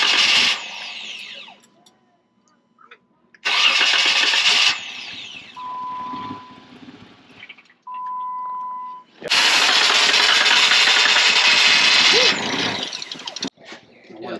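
A Jeep engine cranks and catches in loud bursts, running roughly for a few seconds at a time before cutting out, with quiet gaps and a short beep between attempts.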